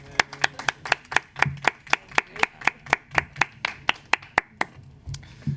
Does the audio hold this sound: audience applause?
yes